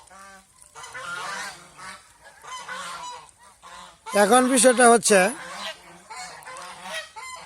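Domestic ducks on a farm pond give a short burst of loud, harsh honking calls midway, with someone talking before and after.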